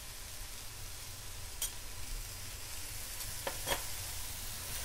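Vegetable momo filling with soya sauce and salt fries in a pan, a constant loud hiss of sizzling with a few brief scraping strokes of stirring near the end.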